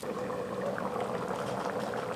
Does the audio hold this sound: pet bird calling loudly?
no